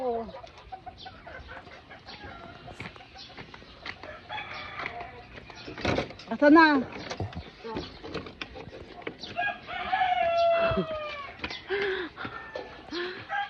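Chickens cluck around a mini farm in Quezon City while a rooster crows loudly twice, once midway and again later, with people talking nearby between the calls.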